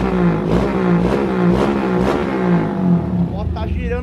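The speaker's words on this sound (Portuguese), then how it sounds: "A moto tá girando bem" Modified motorcycle engine revving up and down at close range, a loud rising and falling whine with a throaty low drone beneath.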